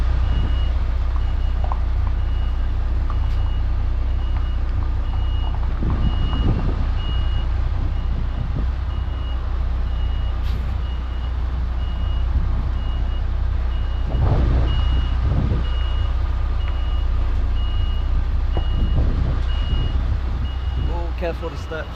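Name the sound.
truck reversing beeps while parking car transporter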